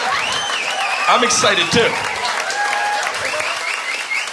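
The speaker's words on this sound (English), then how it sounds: "gentlemen in the back clapping" Stand-up comedy audience members at the back of the room clap, a continuous spread of applause running under the comedian's speech.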